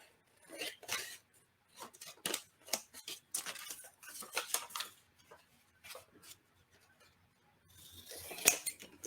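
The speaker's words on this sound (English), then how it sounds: "I'm just going to follow the lines and cut it." Scissors snip through a paper column sheet in short, irregular bursts of crisp clicks and rustles, close and moderately quiet, with brief pauses between cuts.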